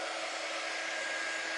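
A quick dry heat tool blows a steady, even rush of air while drying a sign transfer, constant and close with no pauses or voices.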